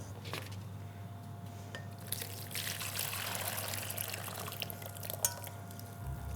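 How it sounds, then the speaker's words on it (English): Poached peaches being drained from their syrup, a soft, steady trickle and pour of liquid with faint wet squishing, quiet and close, with no talking. "I'll drain them out of that syrup so they don't keep cooking"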